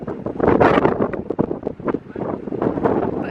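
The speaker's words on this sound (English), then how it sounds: "It's very windy today." Strong wind gusts across an outdoor street in Copenhagen, Denmark, buffeting the microphone with a loud, continuous broadband roar that swells and dips throughout.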